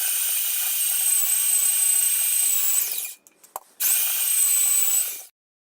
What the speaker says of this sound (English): here's my drill press. I have a big 1/2-inch Makita drill with a metal bi-metal cutting bit